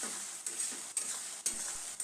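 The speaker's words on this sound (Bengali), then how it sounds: "দিয়ে আবারও আমি পেঁয়াজ রসুন একসাথে ভালোভাবে ভেজে নেব।" Chopped onion and garlic paste fry in a pan for a goat meat roast, a soft steady sizzle punctuated by regular scraping strokes of a spatula roughly every half second, with no talk.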